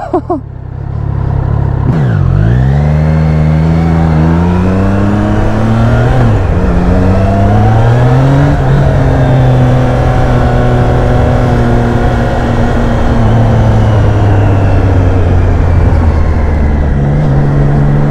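A Triumph Trident 660 three-cylinder motorcycle engine with stock exhaust revs loudly up close, its pitch sweeping up and down through several throttle blips before settling into a steady, rising drone.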